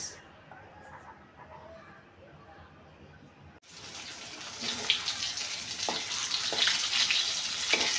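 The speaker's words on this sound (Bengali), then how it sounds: "সব মশলা মেখে বেজে নিব এগুলা রুই মাছ" Spice-coated rohu fish goes into a pan: a few quiet seconds give way to a sudden loud, hissing sizzle that keeps crackling steadily up close.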